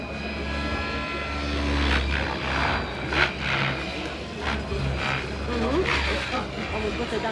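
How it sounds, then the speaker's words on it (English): A Miniature Aircraft X-Cell radio-controlled model helicopter flies a demo at the Rotorlive event, its steady whirring rotor and engine drone loud and continuous, with some crowd and announcer voices mixed underneath. "fly a little bit lower, Jens"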